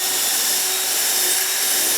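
Drilling a hole in wood with a Parf guide system, a continuous bright, hissing grind of the bit cutting steadily for the whole moment, close and fairly loud with no talking.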